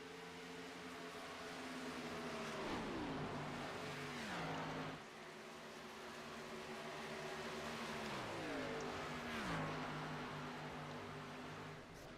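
A race car engine in a sim racing video game, a steady loud drone with repeated surges and dips as gears shift and the car brakes and accelerates, with no voices over it.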